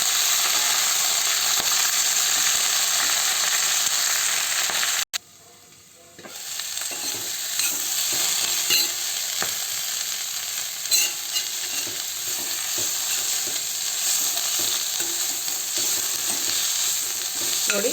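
Mangaraballi (Vajravalli) stems fry in oil for chutney, giving a steady close hiss of sizzling, briefly cut off and then resuming, with faint clicks of stirring and no voices.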